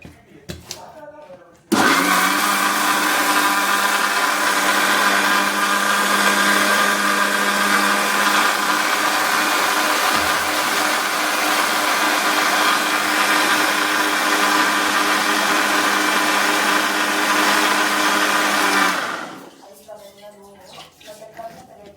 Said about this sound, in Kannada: ಗಟ್ಟಿ ಮಿಕ್ಸಿ ಮಾಡ್ಕೊಬೇಕ್ರಿ. ಗಟ್ಟಿ ರುಬ್ಕೊಬೇಕು, ನೀರಂಗಿರಬಾರ್ದು.